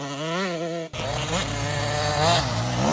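A dirt bike engine revving hard on a flat track, loud and close, pitch climbing through a brief cut between gears, then a sustained buzzing drone.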